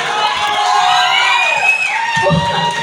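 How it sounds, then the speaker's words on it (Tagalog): A resto bar crowd cheering and shouting for a singing showdown, loud whoops and excited screams layered over one another, with a voice calling out near the end. "Palakpakan na kasama, Sigawan!"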